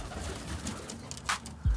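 California spinner roller pigeons coo softly in a loft, with faint scattered calls and low murmurs spread across a short stretch, and a brief louder thump near the end.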